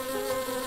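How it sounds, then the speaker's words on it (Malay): Bees buzz in a cartoon as a super bee attacks a monkey, a close, steady insect drone with a tonal hum, alone with no talk. "Super lebah menyerang Bon. Ada lebah."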